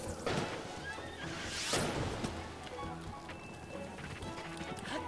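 In The Legend of Zelda: Breath of the Wild, a horse whinnies while hooves clop, over a busy game soundscape of music and effects.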